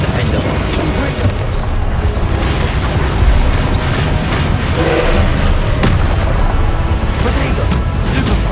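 Confringo blasting spell exploding in the Hogwarts Legacy game: loud booms and crashing bursts over dense, continuous combat noise, with voices talking throughout.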